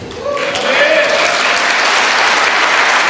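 A church congregation bursts into applause during an evening prayer and worship announcement, the clapping swelling within the first second into a loud, dense wash while a faint voice carries briefly at the start.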